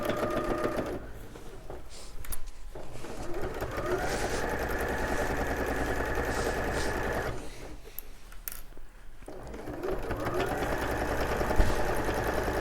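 A sewing machine stitches a quarter-inch seam on an apron dress, its steady mechanical whirr running in long continuous bursts with brief pauses between them, loud and close with no voices.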